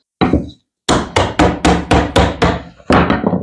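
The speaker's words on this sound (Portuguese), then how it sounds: "eu vou posicionar aqui o meu formão bem no bico aqui e dar uma pancada para ver se ele solta" A chisel set at the edge of a resin coffee table mold is struck with sharp blows: one knock, a pause, then a quick run of six loud hits and a final strike, close and woody with no talk.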